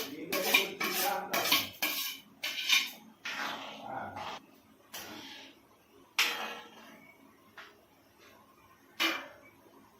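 Vermicelli is stirred in ghee in a metal pot for jaggery payasam, with irregular close scraping and clinking strokes of a spoon against the pot, separated by short quiet gaps.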